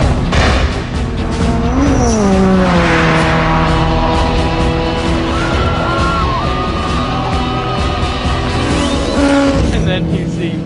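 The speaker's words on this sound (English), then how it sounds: "Then you hear this bike." A loud motorcycle engine roars and revs with rising and falling pitch sweeps as it approaches, while people shout and cheer over it.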